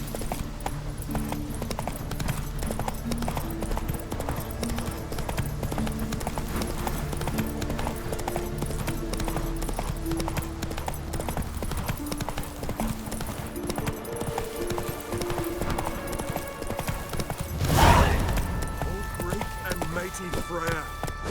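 Horse hooves clip-clop steadily at a run in The Witcher 3 video game, a continuous rhythmic patter under game music, with a brief loud burst near the end.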